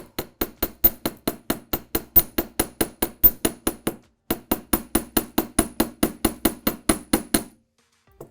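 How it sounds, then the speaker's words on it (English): A chasing hammer taps rapidly on a head pin resting on a metal bench block, a close, even series of sharp metallic strikes with a short pause midway and no talking. "And another thing I like to do with this design is hammer the very bottom edge of this head pin"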